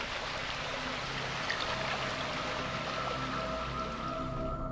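A stream of running water at night on a trail, a steady broadband rush and trickle, close and continuous with faint tonal murmurs woven through it and no voices.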